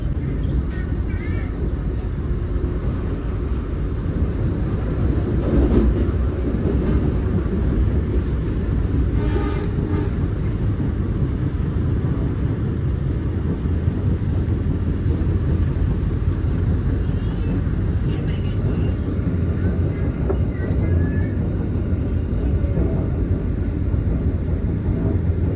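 KA Ijen Ekspress passenger train from Malang running toward Banyuwangi, heard from onboard as a steady, loud low rumble of wheels and carriage noise with faint rattles, continuous throughout.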